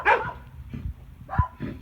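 A neighbor's dog barks in a few short, sharp bursts spread across a couple of seconds, fairly close and loud, with no talk over it.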